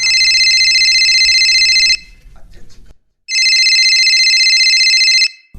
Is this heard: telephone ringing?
yes